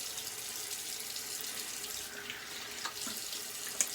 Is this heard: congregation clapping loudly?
no